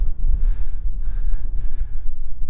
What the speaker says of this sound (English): It's a uniquely windy day today